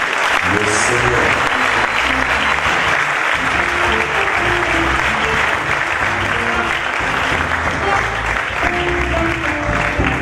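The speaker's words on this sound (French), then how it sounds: "Alors qu'il s'avance, nous acclamons le Seigneur." Church congregation applauding continuously and loudly, dense clapping throughout, with voices and music mixed underneath.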